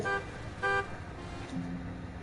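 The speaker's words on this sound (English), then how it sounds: "Did something just honk back?" A car horn in a PS4 video game gives two short, fairly faint toots about half a second apart, followed by a quieter low tone over background game ambience.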